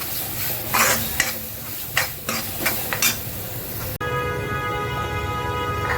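Garlic tempering sizzles in a pan for a Satara-style brinjal curry, a steady frying hiss broken by a few sharp clinks of a spoon stirring against the pot, then a brighter, even sizzle to the end.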